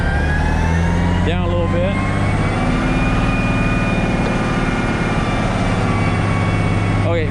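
Diesel engine of a 1040 B wrecker truck running at a steady, loud idle with a constant low rumble and whine, while a man calls out brief instructions over it near the start.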